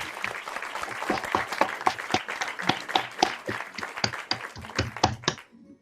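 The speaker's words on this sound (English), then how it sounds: "give a big applause to everybody who was here" Scattered, uneven clapping from a small group of online participants celebrating the ØkoEngineer game launch, sharp separate claps in an irregular rhythm, fairly close, ending abruptly.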